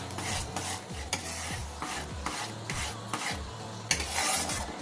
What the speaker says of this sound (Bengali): খুব ভালো করে নাড়াচাড়া করে মিশিয়ে নিয়েছি